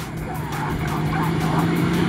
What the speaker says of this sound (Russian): Просто Нивы обгоняют гелик.